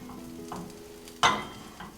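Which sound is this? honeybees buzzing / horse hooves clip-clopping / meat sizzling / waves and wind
meat sizzling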